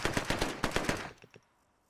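MP2A1 submachine gun from Arma 3 firing a fully automatic burst of 9mm rounds: about eight sharp, rapid, loud shots in quick rhythm, then a brief fading tail.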